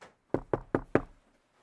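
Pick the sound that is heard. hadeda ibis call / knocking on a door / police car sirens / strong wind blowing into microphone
knocking on a door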